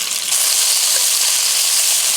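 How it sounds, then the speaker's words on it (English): Pieces of pheasant sizzle steadily in a hot pan, a dense, even frying hiss that stays loud and close throughout with no pauses. "They should sizzle from the moment that it touches the pan until the moment that you take it off the"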